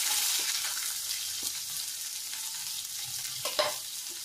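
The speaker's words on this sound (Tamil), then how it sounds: "வெங்காயம் வதங்கணும்." Chopped onions sauté in hot oil with cumin seeds, fennel and a few peppercorns, making a continuous close sizzle broken by occasional spatula scrapes and taps; no voices.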